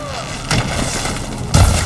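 Shots fired at machine riders on a field in Horizon Forbidden West, two heavy thumping impacts about a second apart over a continuous rumbling game backdrop, close and loud.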